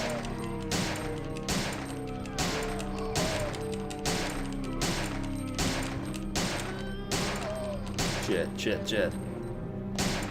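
Gunshots in Resident Evil 3: Nemesis fire in a steady rhythm of about a dozen loud, evenly spaced blasts over a droning backdrop, with a voice briefly swearing.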